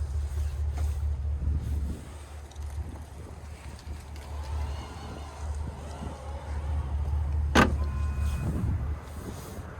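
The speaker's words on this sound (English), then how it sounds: "we can power fold the third row if we need to" Power-folding third-row seats in a 2026 Cadillac Escalade Sport, a low steady electric motor hum running throughout, with a sharp click partway through.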